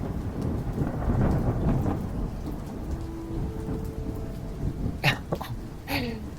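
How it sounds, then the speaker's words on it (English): Heavy rain beats against window panes in a storm, a dense steady rattling wash with a few sharper knocks near the end, loud and close. "It hardly carried over the sound of the rain rattling the window panes"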